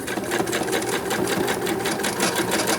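Sewing machine stitching a mini Christmas stocking, a fast steady mechanical chatter running evenly throughout, close and alone.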